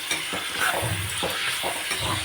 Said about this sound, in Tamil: உப்பு போட்டு நல்லா வதக்கணும்